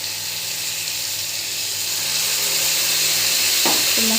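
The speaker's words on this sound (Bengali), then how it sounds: "ভেজে নেওয়ার পর এখন মশলাটা দিয়ে আরেকটু কষিয়ে নেব।" Turmeric and spices fry in a pan for a fish curry, giving a steady close broadband sizzle with no pauses and a brief stirring clatter near the end.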